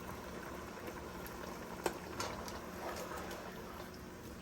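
Bean stew cooking in a pot with seasoning and shrimp bouillon, a quiet continuous bubbling simmer with a faint hiss and one brief clink near the middle, close but soft, with no voices.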